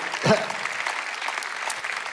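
A church congregation applauds, a soft, steady wash of clapping heard at a distance beneath a brief spoken voice.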